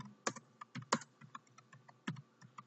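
Computer keyboard keys tapped in a quick irregular burst, with several sharper clicks standing out, close and fairly quiet with no talking.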